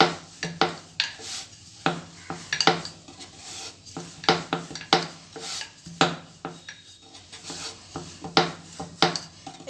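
Paneer-stuffed paratha dough being rolled out with a rolling pin on a board, producing repeated rubbing, knocking thumps and light clatters in an irregular rhythm, close and fairly loud, with no talking.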